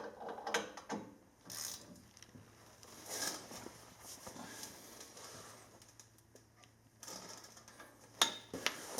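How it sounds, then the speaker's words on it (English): Workshop clicks and ratcheting from a Craftsman torque wrench tightening the brake caliper bolts on a 2008-2019 Toyota Sequoia or Tundra during a front rotor replacement, coming in intermittent bursts over a low steady hum. "And then hand tighten or using the torque wrench, do same thing."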